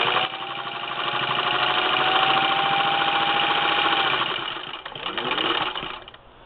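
A 1952 Singer Model 15-91 sewing machine stitching through quilting layers, its motor running as a loud, close, steady mechanical whir and rapid needle chatter for several seconds before slowing and stopping.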